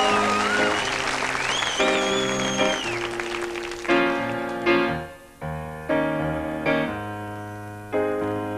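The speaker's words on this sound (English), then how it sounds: "Put your hands together for them." A television audience applauds and cheers a band, with whistles over the clapping, before the band starts playing clear, stepped chords.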